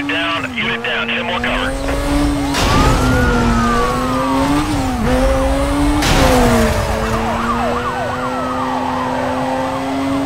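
Police K9 car sirens wail continuously in the racing game Need for Speed: Most Wanted, several overlapping sweeping tones rising and falling over a loud roaring engine, with sharp swells of noise as cars rush past.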